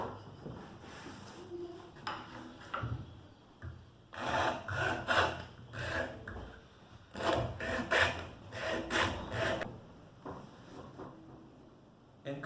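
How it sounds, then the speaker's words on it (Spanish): Metal file rasping against the inside of a cut bamboo panpipe tube, leaving no wood residue; close, repeated scraping strokes in uneven bursts, louder in the second half, with no talk. "una lima nos puede ayudar a dejarla perfectamente limpia"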